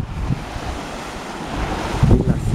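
Ocean waves at Playa de la Lanzada beach, a broad surf wash mixed with gusty wind buffeting the microphone, swelling louder near the end as a wave breaks close by.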